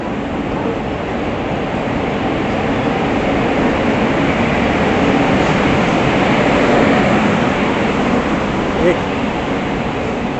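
The Swarna Jayanti Express pulls out of Nagpur Junction, heard from on board as a loud, constant rumbling roar of wheels and carriage that never lets up.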